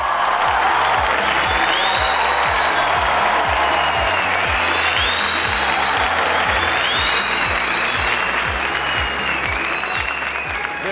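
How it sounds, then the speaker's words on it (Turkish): Sustained, loud studio-audience applause greets Hülya Avşar's entrance on a Turkish TV talent show, dense clapping running steadily throughout with background music tones layered above it. "Alkışlarınızla Hülya Avşar geliyor."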